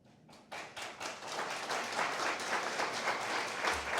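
Audience applause after a talk on the economic cost of lockdowns in Perth, starting with a few scattered claps and swelling into a full, sustained round of clapping from a crowd.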